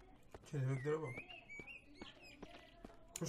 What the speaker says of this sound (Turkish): Tam mekana uygun kuş sesleri var yani